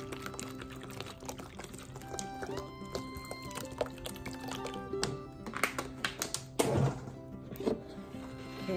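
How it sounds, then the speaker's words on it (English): Water poured from a bottle into a mixture for Tongan otai with strawberries, a light liquid splashing and trickling close by amid small clinks and kitchen sounds. "Add another bottle of water."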